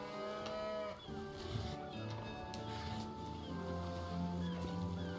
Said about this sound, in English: Some cows.